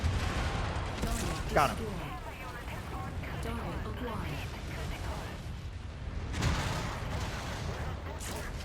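Rifle fire and weapon blasts in the MechWarrior 5: Mercenaries video game, with two sharp louder shots standing out over a dense, rumbling battle din while a person speaks briefly.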